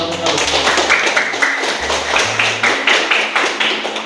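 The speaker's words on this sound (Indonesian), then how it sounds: "Kita kasih tepuk tangan." Students in a junior high school classroom clap for classmates who have just read aloud, a dense burst of close, steady claps running throughout with a teacher's voice over it.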